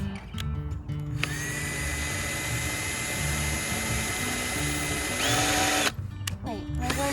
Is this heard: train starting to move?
no